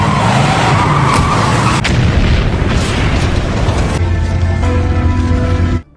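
A huge roaring blast from a burning flour powder factory in a film scene, a sustained loud rumbling explosion with a sharp crack partway through, fading into lingering tonal drone before cutting off.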